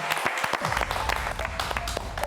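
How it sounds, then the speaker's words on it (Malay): A studio audience at a senior-versus-junior dessert cooking competition claps for a chef, with a short burst of uneven applause and scattered individual claps close by. "Kita memberikan tepukan untuk Chef Zan."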